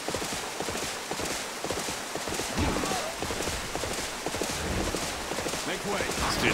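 A horse gallops in the Dynasty Warriors 8 video game, with rapid rhythmic hoofbeats running steadily under game noise and someone talking over them.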